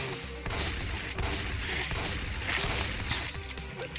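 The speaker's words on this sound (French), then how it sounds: "le fusil à pompe, bah, à courte distance, il arrache" Pump-action shotgun blasts in the space exploration game Space Pioneer on Switch, loud dense bursts of gunfire and crashing impacts filling the few seconds, with no talk.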